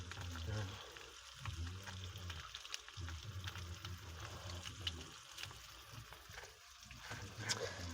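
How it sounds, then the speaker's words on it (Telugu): Ginger garlic paste fries in a pan with tomato pieces for a crab curry, a soft steady sizzle with faint stirring, low and close, continuing throughout. "అల్లమల్లి పేస్ట్ అయితే పచ్చివాసన పోయేదాకా వేగించుకోవాలి"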